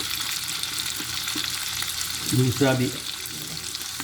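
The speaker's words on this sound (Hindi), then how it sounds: "ये मैंने फ्राई होने के लिए डाल दिया।" Homemade puff pastries frying in melted butter in a pan give off a steady, bright sizzle throughout, with a short burst of speech over it partway through.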